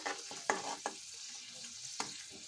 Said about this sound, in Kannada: ಚಿರೋಟಿ ರವಾನ ಮಿಕ್ಸ್ ಮಾಡ್ಕೊಳ್ಳಿ.